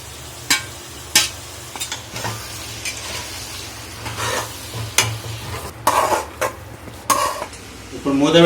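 Goat tripe and drumstick pieces fry in a pan for a curry, a steady sizzle broken by repeated sharp scrapes and clinks of a metal spoon stirring against the pan, close and fairly loud.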